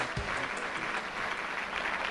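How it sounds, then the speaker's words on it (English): Applause from a studio audience on a talk show, a steady wash of clapping at a moderate level, holding evenly from start to finish with no voices above it. "Let's give it an applause to Boris Vanguard for our great support"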